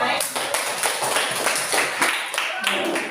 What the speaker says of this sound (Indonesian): Segera kita berikan tepuk tangan untuk semua.